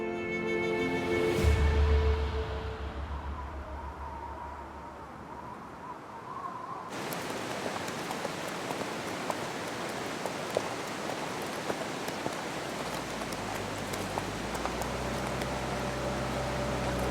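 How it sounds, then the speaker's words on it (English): Constant icy rain falls in a remote Himalayan mountain valley, a dense steady hiss of drops after a brief louder rumble at the start, with no voices. "This morning, the constant icy rain gradually turns to snow."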